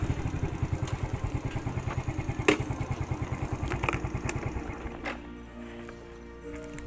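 A motorcycle engine idles with a steady rapid thumping pulse as it is parked, close by, then cuts off, leaving quieter background sound.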